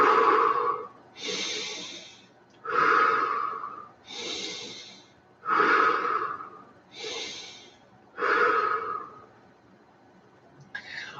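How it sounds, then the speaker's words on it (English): A person breathes deeply and slowly during a guided meditation: five long inhale–exhale cycles, close and clearly audible, each breath drawn out and separated by brief pauses, with no speech. "So just take a deep breath for a minute."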